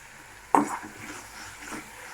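Meat stir-fried in released oil for a home-cooked curry, with a sharp scrape of a spatula against the pan followed by a soft, steady sizzle at close range, quiet overall.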